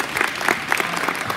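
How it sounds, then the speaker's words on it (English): An audience at an eighth-grade promotion ceremony claps steadily, a dense, continuous burst of many hands heard up close without a pause. "Full claps for everyone or super claps?"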